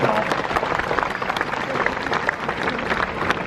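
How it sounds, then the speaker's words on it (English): An audience at Warwick Castle gives a steady round of applause to a performer, dense clapping that carries evenly and loudly throughout. "Let's give Sydney a big round of applause."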